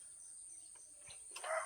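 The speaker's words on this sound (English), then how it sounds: "Great morning, hear the birds worshiping their Creator." Morning birdsong outdoors: faint, scattered chirps over a steady, high, cricket-like hum, with a brief louder burst of chirping near the end.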